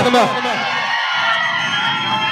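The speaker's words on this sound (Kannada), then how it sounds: "ಬರ್ಲಿ ಜೋರಾದ ಚಪ್ಪಾಳೆ ನಮ್ಮ" A stage comedy show audience claps and cheers loudly as a performer arrives, a dense wash of applause and whoops that carries on throughout, with a voice briefly over it at the start.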